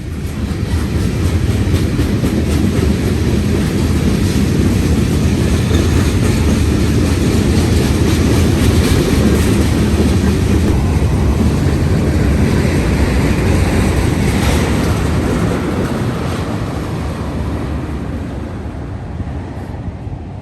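NYC train 179 passes close by at night, heading west near milepost 162, a loud sustained roar of wheels and engine holding steady across the whole stretch and easing slightly toward the end, with no talking.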